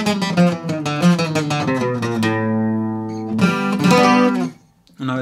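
Quick plucked notes on a requinto guitar run through an ornament at a faster pace, a close, bright flurry of picked notes that rings out and then fades away.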